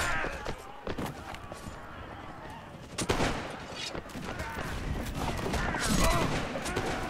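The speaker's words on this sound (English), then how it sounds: "The enemy is open fire." Musket volley gunfire on a battlefield in Mount & Blade Warband, a dense crackle of overlapping shots from the enemy line with some louder close reports, heard under someone talking.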